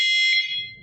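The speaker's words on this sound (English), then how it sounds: "The first noise is a 1 beep." A single sustained electronic beep tone from a waterproof remote dog training beeper collar, loud and close, holding steady for about half a second before fading, with faint low background noise after.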